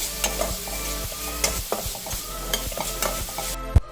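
Ginger garlic paste stirred and frying in a pan for an egg roast, with a steady sizzle and repeated spoon scrapes against the pan, close and moderately loud, no talking.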